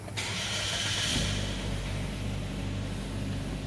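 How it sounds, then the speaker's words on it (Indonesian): A 2021 Suzuki Ertiga Sport's engine turns over and settles into a steady, low idle rumble with a constant hum, close by and without speech. "Kita injak rem untuk menyalakan mesin."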